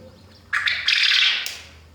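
A short, sharp male quail call bursts out halfway through, loud and close, a harsh high chattering that holds for about a second before fading.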